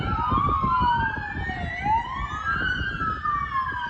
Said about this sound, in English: There's at least 3-4 times a day you hear sirens go by.